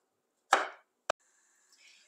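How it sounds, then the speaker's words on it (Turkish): Knife cutting a peeled tomato on a board, one soft chop followed by a sharp tap, then faint sizzling noise, close and otherwise quiet. "en son kabuğunu soyduğumuz bir adet domatesi doğrayacağız"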